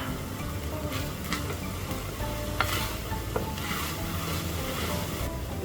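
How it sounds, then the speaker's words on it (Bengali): Noodles and peas fry in hot oil while being stirred, a steady close sizzle with scraping spoon strokes and a few sharper clinks over nearly six seconds, no talking. "তেলের মধ্যে দিয়ে দিলাম নুডলস আর মটরশুঁটিটা"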